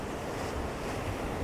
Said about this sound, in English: You've got to time the waves.